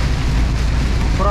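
Storm wind and heavy rain roar at a fuel station by the Orava reservoir during a hurricane-like downpour, a dense close rush of noise that buffets the microphone.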